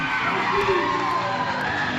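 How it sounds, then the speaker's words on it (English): Wrestling crowd at a live indoor show roaring and cheering, a dense loud wash of voices with shouts and whoops sustained close and steady throughout. "You listen at the crowd as they hear the roar and the energy pick up"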